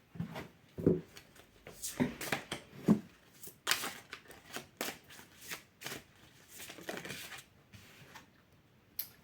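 Oracle cards of a liberation deck shuffled by hand, close and fairly quiet, an uneven series of papery slaps and riffles with short pauses between bursts.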